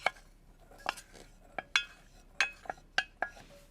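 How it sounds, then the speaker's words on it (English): A spoon scrapes rice out of a small pink pan in a series of sharp metallic clinks and scrapes, about ten distinct strikes spaced irregularly, close and clear against a quiet background. "Just scrape it out of my little pink pixie pan."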